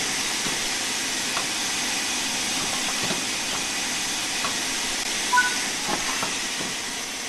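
A steam locomotive in Train Sim World 5 hissing: a broad, continuous loud hiss of steam with faint mechanical clanks and ticks beneath it, steady throughout, with no voices.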